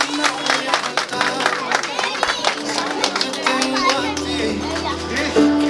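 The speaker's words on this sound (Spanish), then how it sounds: "se escuchen fuertes los aplausos hoy en esta noche, complaciendo a los novios" A wedding crowd applauds the newlyweds, with sustained clapping and cheering mixed with chatter, then music with a low bass note coming in toward the end.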